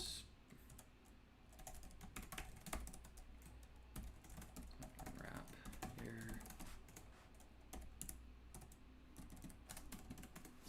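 Typing code on a computer keyboard: steady, quiet clattering of keystrokes in uneven bursts, with a low room hum underneath.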